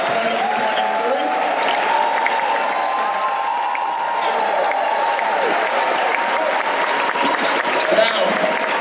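A ceremony audience gives graduates a long, steady round of applause, the dense clapping holding loud and even throughout with faint crowd voices mixed in.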